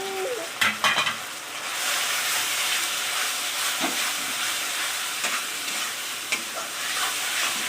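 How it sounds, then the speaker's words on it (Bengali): Chicken fries in a pan with salt, turmeric and chili powder, giving a continuous close sizzle and hiss with a few clacks of the stirring spoon near the start. "এটা দিয়ে ভালো করে আমি ভেজে নেব"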